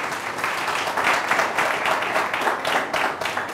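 An audience claps for an ambassador on a French-language broadcast, a steady, dense patter of many hands that surges in waves and holds at a moderate level throughout, with no voices over it.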